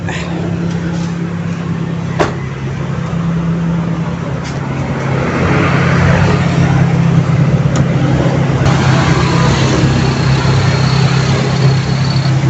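A 1997 Toyota Corolla XL engine runs steadily up close, a constant low idling rumble with faint traffic noise around it.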